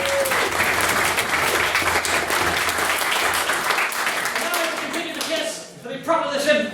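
Sustained audience applause after a maiden speech at a debating society, steady and fairly close throughout, with voices and some talk emerging as the clapping dies down near the end.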